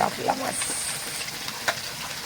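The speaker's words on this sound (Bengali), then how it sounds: "এই গামলা কাতলা মাছ ভাজা হচ্ছে।" Catla fish frying in a large pan of oil, a continuous close hiss and sizzle with a few soft clinks and bubbling pops over a couple of seconds.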